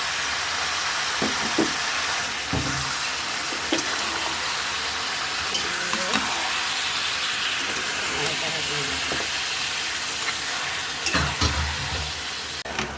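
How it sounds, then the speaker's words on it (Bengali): Onions and spices sizzle and hiss steadily in a pan while beef curry cooks, with occasional scraping and stirring clatter and faint voices in the background. "আমি এখন ভালো করে কষিয়ে নেব।"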